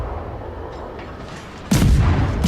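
Naval guns fire in the World of Warships game, a sudden heavy boom landing over a rumbling battle ambience and echoing loudly to the end.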